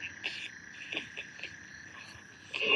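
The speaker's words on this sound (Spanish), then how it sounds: "De un momento a otro se intensificaron el ruido de los grillos." Crickets chirp at night in a quiet outdoor spot, a steady high-pitched trill with pulsing bursts, fairly faint and continuous, swelling louder near the end.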